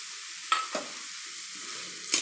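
Tomatoes for tomato palya frying and being stirred in a pan, with a steady soft sizzle and a few brief scraping strokes of the spoon against the pan.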